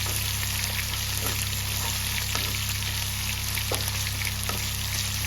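Crushed garlic and onion frying in a pan for a fish head curry, a steady close sizzle and crackle with faint stirring ticks over a constant low hum, no talk.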